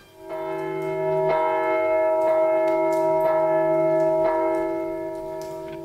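A church bell strikes about five times at a steady pace of roughly one stroke per second. Each stroke is loud and close, and its rich ringing tone hangs on between strikes.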